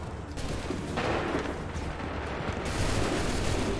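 Massed musket volleys crackle in an Assassin's Creed 3 battle, a dense fusillade of overlapping shots rolling on continuously and loudly, swelling again near the end.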